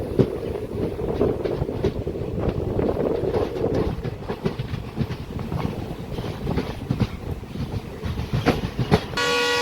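A Madurai to Rameshwaram passenger train rumbles along with rhythmic clacking of wheels over rail joints, heard steady and fairly close, and a brief horn-like tone appears near the end.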